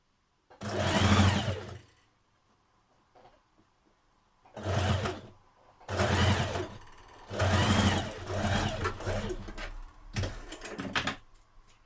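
A sewing machine stitches the shoulder seams of a refashioned top in several loud close bursts of rapid whirring, separated by short pauses of near silence.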